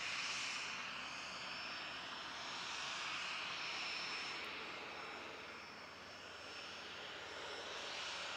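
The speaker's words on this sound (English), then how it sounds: "Lovely little aircraft." A small aircraft, registration N2WG, passes at an aero club with a fairly quiet, steady engine drone that swells and eases slightly over eight seconds, alone with no talk.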